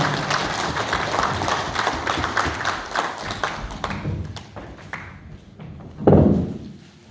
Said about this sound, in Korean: 다시 한번 커다란 박수로 축하해주시기 바랍니다.